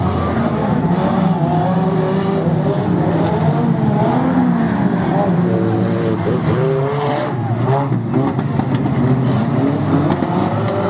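Banger racing cars roar around an oval track on a bank holiday meet, engines droning and revving continuously with tyres squealing and skidding, heard from trackside as a loud, dense wash of motor noise.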